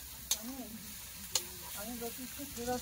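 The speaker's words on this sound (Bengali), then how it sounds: "লঙ্কা গুঁড়ো আরেকটু দাও, অনেকটা। সব ভালো করে কষে নেবো।" Spices with turmeric and chili powder being stir-fried in a pan for a Bengali rui fish curry, a soft steady sizzle with two sharp scrapes of a spoon, while a voice talks over it.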